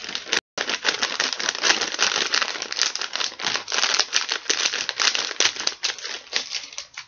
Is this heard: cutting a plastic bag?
yes